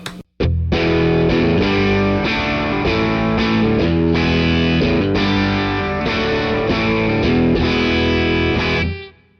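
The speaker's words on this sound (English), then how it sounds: "I'm on the deluxe reverb now, and I have the 30 something on." A loud electric guitar through a Fender Deluxe Reverb amp with a 30 Something overdrive pedal plays sustained, crunchy chords, continuous for several seconds before ringing out, with no voices.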